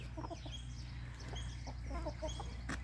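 Backyard coop chickens clucking at moderate distance, a run of soft, scattered clucks and short calls over steady low ambient hum, with no talk.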